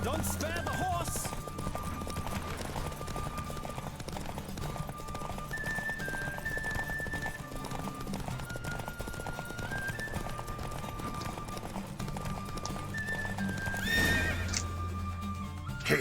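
A horse in The Witcher 3 video game neighs and whinnies repeatedly over steady galloping hoofbeats, with rushing motion noise throughout and a louder whinny near the end.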